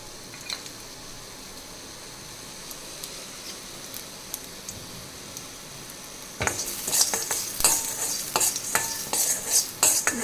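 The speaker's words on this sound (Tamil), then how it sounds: "சிம்மில் வச்சா வறுத்துக்கோங்க, தீ விட்டுறாதீங்க, பார்த்து வறுத்துக்கோங்க." Coriander seeds dry roast in a pan over a low flame for rasam powder, quiet at first, then a close, busy rattle and scrape as the seeds are stirred.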